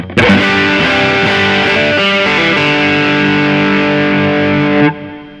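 An electric guitar through a JHS Morning Glory overdrive pedal rings out a thick, overdriven chord that sustains for several seconds before cutting off abruptly.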